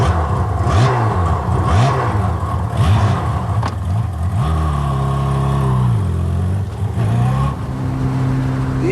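A 100-horsepower road motorcycle engine runs close by, rising and falling through repeated revs and gear changes before settling into a steadier drone.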